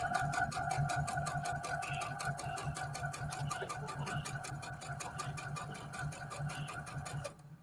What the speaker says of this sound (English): And then I am going to stitch the entire length.